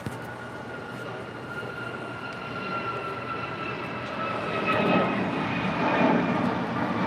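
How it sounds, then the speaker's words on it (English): Alaska Airlines Boeing 737 MAX 9 bound for Seattle departing LAX, a steady jet engine roar with high whining tones that swells louder toward the end, with no talk. "Now departing is Alaska 1219, departing to Seattle on a max 9."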